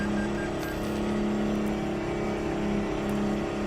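A Mack-style truck engine in American Truck Simulator hums in a steady low drone, loud and close, holding an even pitch with a faint whir and no voices.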